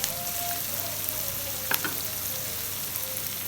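Steady, close sizzling of onions frying in a pan, a continuous crackling hiss with a brief clatter midway and no voices.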